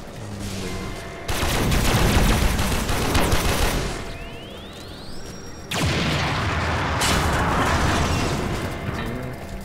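Bursts of heavy gunfire and booming blasts from a laser turret attack in the Warframe video game, dense and loud in two long volleys with a brief lull between them.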